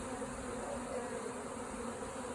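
A swarm of honey bees hums while being shaken into a hive box, a faint, dense and continuous buzzing drone with no pauses.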